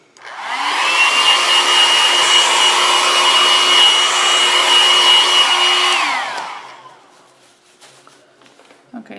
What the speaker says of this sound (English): So I'm going to hit this just real lightly with a hair dryer to take out a little of the